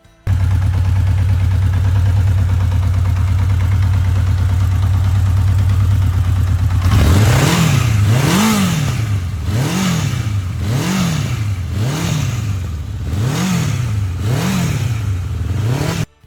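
A vintage Honda CB900F motorcycle engine idles steadily with a loud, close four-cylinder drone, then is revved repeatedly in rhythmic rising and falling blips, about six pulls in a row.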